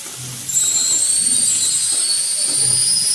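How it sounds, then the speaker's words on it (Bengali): Chopped onion frying in oil in a pan, a steady sizzling hiss that rises after a brief quieter start and holds evenly throughout. "পেঁয়াজটাকে আমরা লাল লাল করে ভালো করে ভেজে নেব"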